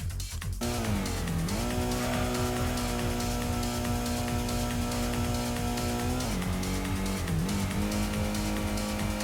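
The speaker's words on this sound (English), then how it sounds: "Accelerating out and on to the finish line for the end of the first race." A car in the Gran Turismo PS1 racing game accelerates toward the finish line, its engine a loud steady drone that climbs in pitch, dips at a gear change and rises again.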